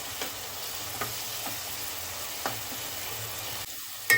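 Ginger garlic paste fries in a pan for a ghee boneless chicken dish, a continuous close sizzle broken by occasional soft scrapes of a spoon stirring; no voices.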